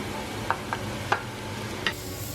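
Chopped onion, carrot and celery sauté in a pot under a constant sizzle, with a few distinct clicks as a utensil stirs them through.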